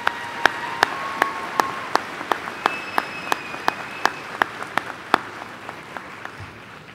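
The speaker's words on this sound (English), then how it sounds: "Let's give them another round of applause at this time." Applause at a 2024 high school graduation ceremony, heard as a steady series of sharp, separate claps about every third of a second, fairly close and moderately loud, with a faint tone running beneath.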